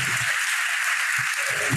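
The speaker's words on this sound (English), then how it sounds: "Let's give the speaker a round of applause." An audience at a school outreach programme applauds a speaker, with brief, dense, steady clapping throughout.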